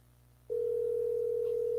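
A steady telephone dial tone switches on after a brief quiet moment and holds loud and unbroken to the end, no voices present.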